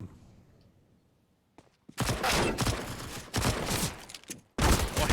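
USP pistol fire in a Counter-Strike match on the Inferno map comes as sharp bursts of shots, near and loud, in several clusters after a quiet opening with faint clicks.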